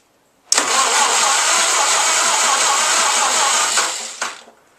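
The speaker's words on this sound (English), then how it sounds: "We've hooked up a 6-volt battery just to see if it will turn over." A 1937 Cletrac engine cranking on its starter from a 6-volt battery, a loud steady whirring churn that begins abruptly, runs for about four seconds, then winds down with a brief final burst.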